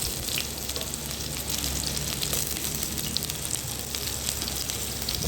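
Diced large onion frying in hot oil after tempering spices, a steady close sizzle and crackle running unbroken throughout with no voices.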